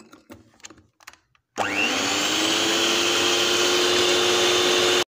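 An electric hand beater whirring in a bowl of chocolate cake batter with milk added, a loud continuous high whine after a few soft knocks and clatters, running steadily for several seconds before cutting off abruptly.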